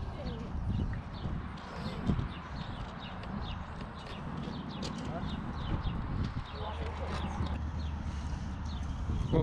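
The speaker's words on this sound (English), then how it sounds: "Those are the donkeys" Donkeys move about a farm, their hooves clip-clopping irregularly at close range while people talk throughout and faint birdsong sounds in the background.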